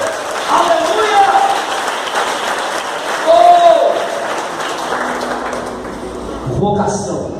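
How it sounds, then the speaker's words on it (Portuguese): A church congregation claps, a broad wash of applause running under a loud voice that speaks and calls out over it the whole time. "Você pode aplaudir o Senhor nessa noite?"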